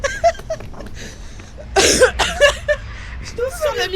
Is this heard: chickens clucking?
no